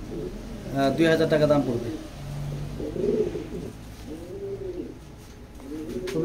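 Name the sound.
pigeons cooing in a pigeon loft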